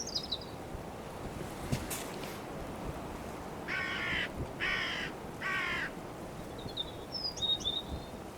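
Three harsh caws from a hooded crow, evenly spaced, stand out against steady outdoor background noise, with faint bird chirps before and after.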